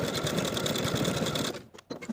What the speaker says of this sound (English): Now I can overlap the ends of my elastic and zigzag back and forth to secure.